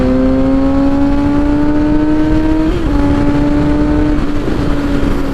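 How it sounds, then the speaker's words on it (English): A 2021 Suzuki GSX-S 750 motorcycle exhaust drones loudly and steadily, its pitch creeping gradually upward as the engine pulls, with no talking. "The reason why I bought this bike is for the exhaust note."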